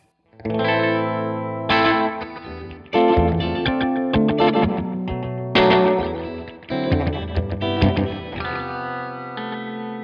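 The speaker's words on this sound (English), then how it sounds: "it faithfully recreates the combined echo and reverb cabinets that were on this" Arturia's recreation of a Roland Space Echo tape delay on its default setting, with guitar chords ringing through repeating echoes and a reverb wash, sustained and dense with no talking.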